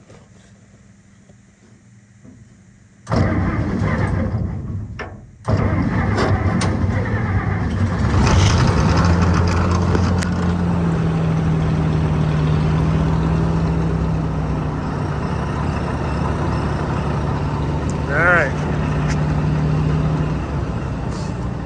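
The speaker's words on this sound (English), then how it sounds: "they're kind of gutless engines, these Flathead 6s, but boy do they sound sweet" An old flathead six-cylinder engine on a Massey Harris 92 combine cranks, stops, then fires and settles into a steady loud idle with a rising rev, while someone says a word.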